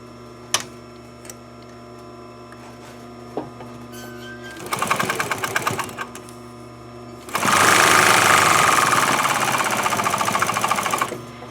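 Sewing machine top stitching a folded fabric bag, a few taps and then two loud close runs of rapid mechanical stitching, the second longer and steady.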